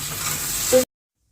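Ghee tadka for an aloo mangodi dish sizzles and crackles loudly in a pan while being stirred, a close, steady hiss with a brief stirring scrape before it cuts off abruptly.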